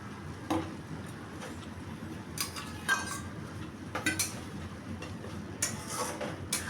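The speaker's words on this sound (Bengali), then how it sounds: "আলু দিয়ে এবার মশলাটা ভালো মতো সব কষাতে হবে।" Fried potatoes being stirred with masala in a pan for kakrol dorma, giving soft clinks and scrapes of a spatula against metal over a low background hiss, close and intermittent.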